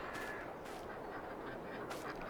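Ducks on a farm in the video game Farming Simulator 22 quack faintly in a few brief honking bursts over a steady ambient game background, with no talking.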